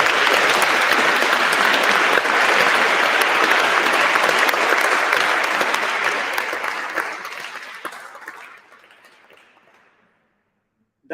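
Loud, dense applause fills a student teaching awards ceremony, holding steady for several seconds, then gradually thinning and fading to silence, with a sudden sound right at the end.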